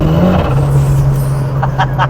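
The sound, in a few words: 560bhp Ford Sierra Cosworth driving in fourth gear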